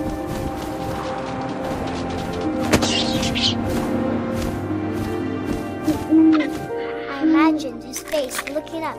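An owl hoots in the video game What Remains of Edith Finch, soft repeated calls blended into a game soundscape with thuds and tonal music while a voice talks over it.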